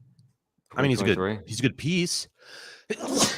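A single sharp sneeze bursts out close to the microphone during a stretch of conversational speech, with talking before and after it.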